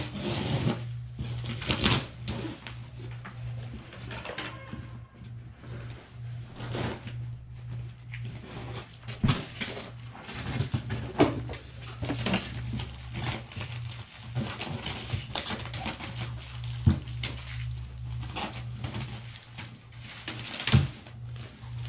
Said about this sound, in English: The box has seen better days, so I'm gonna get it open here.